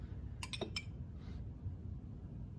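Spoon set into a cup of cream, giving a few quick, faint metallic clinks close by over a low background hum.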